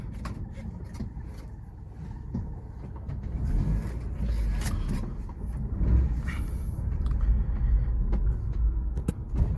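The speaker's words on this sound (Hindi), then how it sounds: "कार काफ़ी अच्छी चल रही है, एक्सपेक्टेशन से तो बेटर है।" A 20-year-old Nissan March drives along, heard from inside as a steady low engine and road rumble that swells slightly as it goes, with faint rattles.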